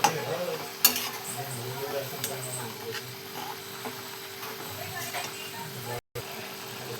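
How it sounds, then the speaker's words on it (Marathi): Spinach dal with onion and tomato is stirred in a pot, with soft scraping and occasional utensil clinks and a faint sizzle running beneath someone speaking throughout. "आता पालकची भाजी डाळ कांदा टमाटर सगळं हे बघा असं सर्व मिक्स करून घेऊ"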